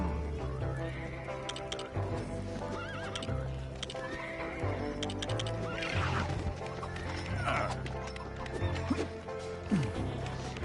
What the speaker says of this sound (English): That horse is plumb loco.